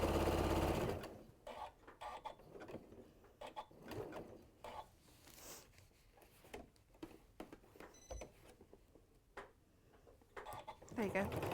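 A sewing machine runs in bursts as it stitches around fabric edges to flatten them down, its whirring rising and stopping several times while people talk close by.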